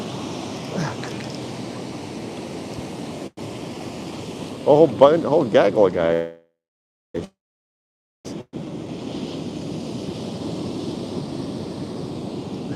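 Ocean surf rolls on a cold beach where people are about to go in, a constant broad wash with wind noise, under a voice, briefly cutting out near the middle before resuming.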